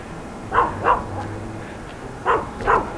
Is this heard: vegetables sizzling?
no